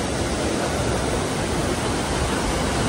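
Napne waterfall in Konkan, water plunging at high speed over rock, gives a dense, steady roar that fills the whole moment with no break and no voices.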